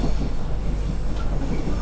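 A moving train carriage on a Sumatran railway rumbles and rattles continuously from inside, a dense, steady low roar with faint creaks.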